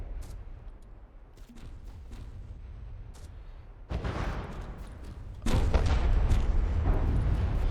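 Naval guns firing in a battleship video game: scattered cracks over a low rumble, then two heavy booming salvos a couple of seconds apart, each leaving a loud sustained roar.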